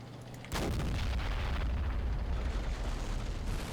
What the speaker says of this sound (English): The sound of it is amazing. It's a 290mm spigot mortar.